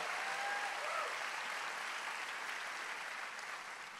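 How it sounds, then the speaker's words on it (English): Church congregation clapping in a thick, continuous roar of applause from a large crowd, fairly distant and tapering slightly toward the end. "Give the Lord a big clap"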